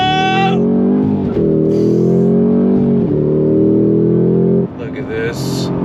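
A 2025 Cadillac CT5-V Blackwing Precision sedan's engine pulls hard on throttle through twisty roads, a loud sustained tone rising in pitch with brief shift dips, heard from inside the cabin.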